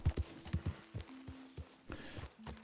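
A horse's hooves clip-clop on the ground in the video game Red Dead Redemption 2, with a series of quiet, uneven hoofbeats heard close by.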